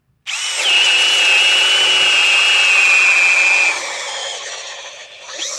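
A Bosch power drill bores straight through a pressure-treated 6x6 timber, a loud, steady high-pitched whine that holds for about three seconds and then drops to a lower running tone as the bit clears the wood.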